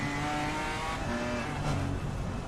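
BMW race car in Assetto Corsa Competizione at Brands Hatch, a steady loud engine drone with revving and tire noise, close and continuous.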